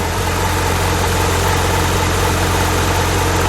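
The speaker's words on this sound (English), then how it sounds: "Let's listen to it idle." A 2016 Porsche 911 GT3 RS idles steadily close by, a constant loud, low, throbbing engine note with no other sounds and no variation.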